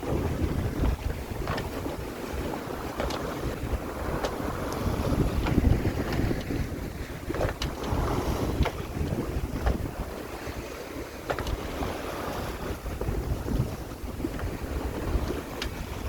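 Steady wind rushes past a sailboat with water splashing against the hull, a continuous loud roar with occasional gusts and slaps of waves, wind coming from astern, out on the Pacific.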